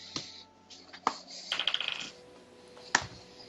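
Dice clatter and roll across a table during a tabletop role-playing game session, with a sharp drop, a quick bouncing rattle of small hard hits, and another sharp clack, all fairly faint with no talk.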